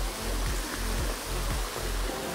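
A steady, dense rush of a waterfall in Ensenada roars continuously, loud and broadband, with no voices.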